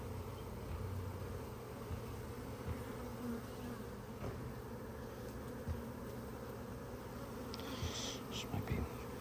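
Honey bees buzz in a steady, dense drone throughout a hive inspection, close and continuous, with a faint voice barely present beneath the hum.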